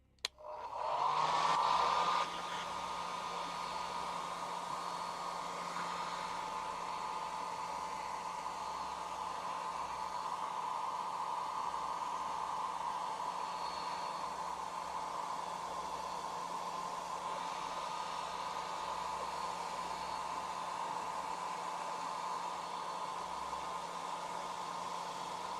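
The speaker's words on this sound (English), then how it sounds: "Hairdryer." A hair dryer switches on with a brief click and whoosh, then runs steadily at a constant airy roar with a steady whine for over twenty seconds.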